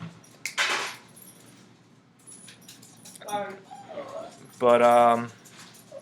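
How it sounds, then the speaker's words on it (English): A small Shih Tzu at the foot of the stairs gives a few sharp yips and whimpers between stretches of quiet, with a person speaking briefly nearby. "barking at the stairs because he doesn't like going up the stairs because he's too small."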